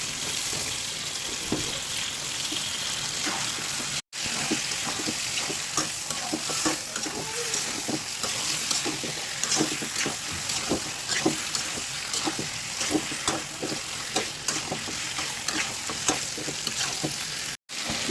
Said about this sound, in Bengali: হাঁসের মাংসগুলো ভালো করে কষায় নিচ্ছি